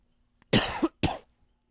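Two quick, close coughs from a person, a harsh burst followed by a shorter second one, with near silence around them.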